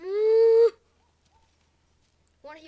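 A man imitates a cow with his voice, giving one loud, close, drawn-out moo that breaks off abruptly, then silence before a second moo begins.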